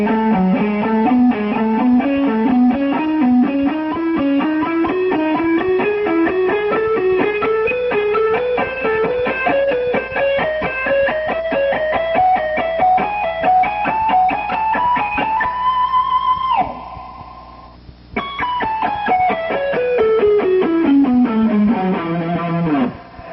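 Distorted electric guitar playing a fast speed lick in four parts, rapid runs of notes climbing steadily, a brief pause near the end, then a quick descending run, loud and alone.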